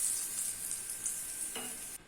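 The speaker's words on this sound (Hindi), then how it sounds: "तड़का हमारा रेडी है, वो हम लोग अभी पालक पनीर के ऊपर डाल देते हैं।" Hot tadka tempering is poured over palak paneer, giving a steady close hiss and crackle of sizzling oil that runs throughout, with a brief sharper burst near the end, and no talk.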